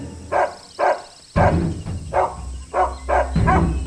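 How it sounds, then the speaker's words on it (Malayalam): A dog barks repeatedly in a run of about seven loud, close barks in a fairly regular rhythm, with a steady hum beneath. "ഇവനെന്തിനാ അങ്ങോട്ട് നോക്കി കുരയ്ക്കുന്നത്?"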